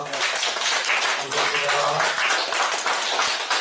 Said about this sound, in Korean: 격려 박수 부탁드립니다.